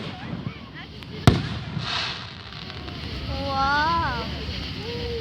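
Fireworks go off outdoors with one sharp, loud bang followed by crackling and a fading boom, while people nearby talk and exclaim over it.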